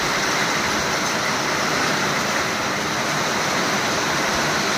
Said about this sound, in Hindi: आज आषाढ़ के पहला बारिश होते हमारे गांव तरफ